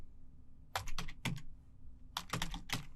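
A command being typed on a computer keyboard: two quick clusters of close, crisp keystrokes separated by a short pause.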